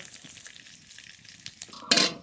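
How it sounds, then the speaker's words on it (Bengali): Bay leaf and whole cumin hit hot mustard oil in a wok, giving a quiet hiss that flares into a short, bright sizzle near the end. "তেজপাতা গোটা জিরে ফোরনে"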